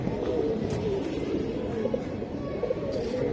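Army pigeons kept by a Bengali pigeon fancier coo softly and steadily over a continuous low murmur, with no clear voices in the foreground.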